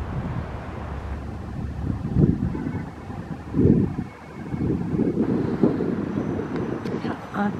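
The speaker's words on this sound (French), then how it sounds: "Un peu de vent." Wind blows steadily over the microphone in a frozen Paris park on a cold winter day. It gives a continuous low rumble that swells in gusts.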